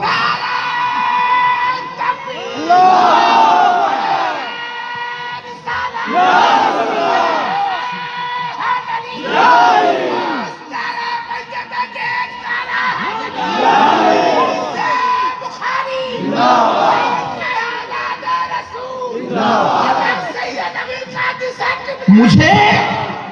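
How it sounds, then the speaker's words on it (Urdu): A large crowd at a religious gathering loudly chants a religious slogan in unison, answering in about seven strong, evenly spaced bursts with brief lulls between them. "یا رسول اللہ بھائی نعرہ لگاؤ تو ایسے مردوں کی طرح نہ لگانا"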